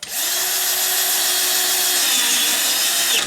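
A power driver whirs steadily and loudly up close for about three seconds, tightening screws while an HPI Baja SS radio-controlled car is being built, with a bright high-pitched grinding tone throughout.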